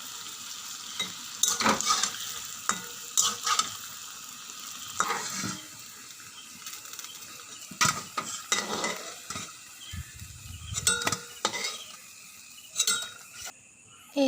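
Palm fruit fritters (taler fuluri) fry in oil with a low bubbling sizzle, repeatedly interrupted by clinks and scrapes of a utensil against the pan.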